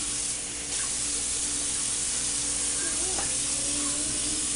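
Tap water runs steadily in a kitchen sink, a broad close hiss as cooked neck bones and carrots are rinsed off for a soul food dish, with a faint clink partway through.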